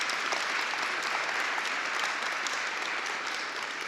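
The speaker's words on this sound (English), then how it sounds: "we owe our COO, Marisa Madrigal, a huge round of applause" An audience at a metro swearing-in ceremony claps in a dense, steady round of applause that holds at an even level from start to finish.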